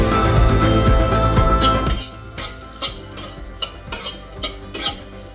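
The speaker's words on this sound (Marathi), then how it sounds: "आता आपण गरम मसाला भाजून घेऊया।" Garam masala dry-roasting in a pan, stirred with a spatula: a dense scraping rustle at first, then a run of sharp, close metal scrapes and taps at an irregular pace.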